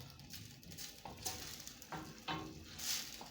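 Tomato paste sauce stirred in a pot as it thickens, giving a soft, intermittent scraping and bubbling sizzle with a few louder stirring strokes, close and alone.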